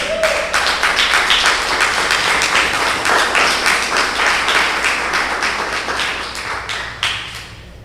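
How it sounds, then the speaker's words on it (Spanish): A Messianic congregation claps together in a steady, fairly loud burst of applause lasting several seconds, sharp individual claps standing out before the sound thins and dies away near the end. "Dale el aplauso al bendito sea"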